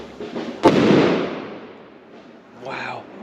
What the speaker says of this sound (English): they've got these firecrackers that they chuck outside your house. That really sound like bombs.